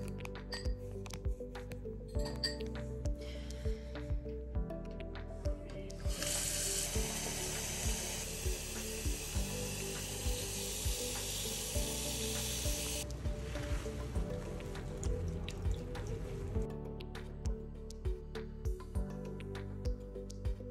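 An object is rinsed under a running kitchen sink tap, a steady hiss of water lasting several seconds before stopping, heard over quiet background music.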